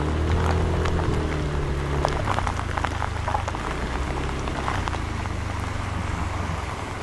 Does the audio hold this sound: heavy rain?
yes